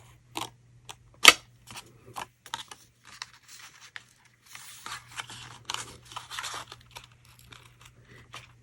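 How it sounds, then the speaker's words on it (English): Scissors snipping paper in a series of short crisp cuts, irregular and close, with crinkling between snips and a faint low hum. "I just kind of wiggled my scissors so it wasn't a completely straight line"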